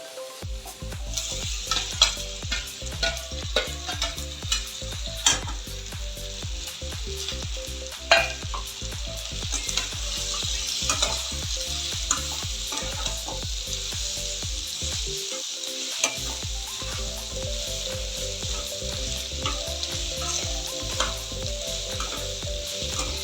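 Ivy gourd (tendli) sautéing with tomato in a pan, a loud continuous sizzle and crackle with frequent spatula scrapes and clicks throughout, briefly dipping once partway before carrying on steadily.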